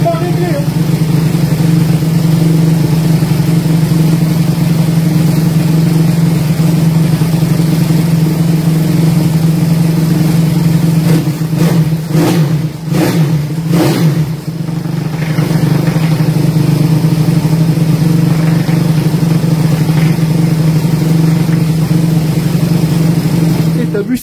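A Zongshen 180 motorcycle engine idles steadily up close after a kick start, a loud continuous rumble that wavers briefly midway before settling back into an even running hum.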